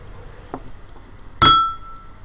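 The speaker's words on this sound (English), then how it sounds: "Tried to put it down, crashed it into a bowl, an empty bowl." A drinking glass set down too hard knocks into an empty bowl, first with a soft tap and then a single sharp, bright clink that rings on and fades slowly in a quiet room.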